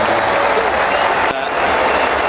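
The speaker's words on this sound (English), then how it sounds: "we'll just let this crowd stand and applaud." A cricket stadium crowd at AMI Stadium in New Zealand during an India ODI, applauding steadily as a batsman walks off, a dense continuous roar of clapping with a commentator's voice faintly beneath.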